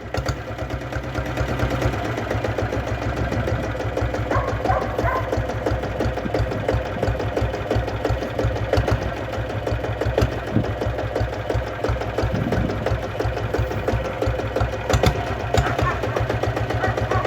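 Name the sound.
diesel Bullet motorcycle engine running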